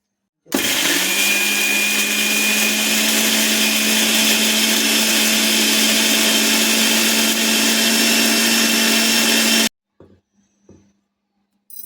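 A kitchen mixer grinder whirs loudly and steadily for about nine seconds as it blends chutney ingredients of dried red chilies, salt, tamarind and turmeric, then cuts off abruptly, leaving faint rattles.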